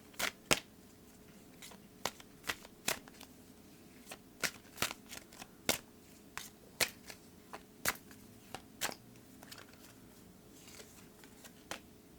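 Oracle cards being shuffled by hand, a series of crisp riffling snaps and papery flicks in an irregular rhythm, close and clear, with no speech.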